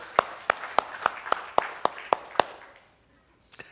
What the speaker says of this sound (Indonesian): Tepuk tangan baik Tuhan.